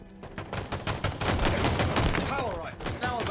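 Dense automatic gunfire from Halo Infinite multiplayer, a rapid burst of shots layered with explosive booms and game effects, loud and continuous, with brief voices talking over the action.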